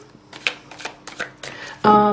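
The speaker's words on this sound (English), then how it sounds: "So you can shuffle them." Glossy tarot cards with black-inked edges are shuffled by hand up close, a string of soft crisp flicks and riffles ending in a louder burst, with a voice speaking near the end.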